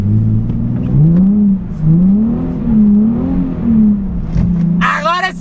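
Nissan 370Z Nismo engine revving and droning through wavering pitch while drifting in the rain, loud and close, with a brief higher whine near the end and talk partly over it.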